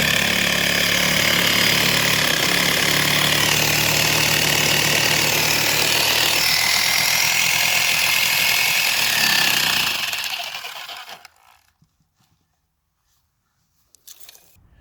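A homemade powered soil sifter trommel runs loud and steady with a rough mechanical engine rumble and rattling grind for about ten seconds, then winds down and cuts off into near silence.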